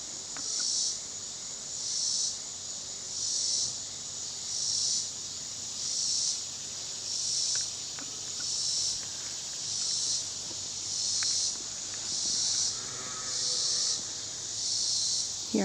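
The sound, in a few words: bees among garden sunflowers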